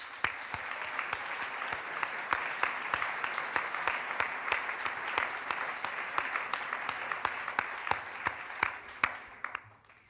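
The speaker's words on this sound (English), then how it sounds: "Please join me in a round of applause for them as well" At a graduation ceremony for interdisciplinary master's diplomas, an audience gives a steady round of applause, dense clapping with occasional sharper claps standing out, heard at a moderate distance and without talk.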